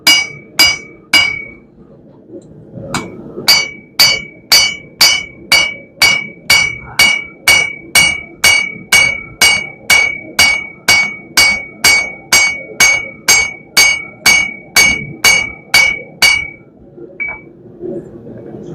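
A hammer forges bevels into a steel herb chopper, ringing out in a steady run of about thirty sharp, evenly spaced metallic strikes. The blows are loud and close, with a brief pause near the start.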